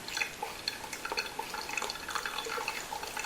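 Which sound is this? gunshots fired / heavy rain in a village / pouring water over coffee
pouring water over coffee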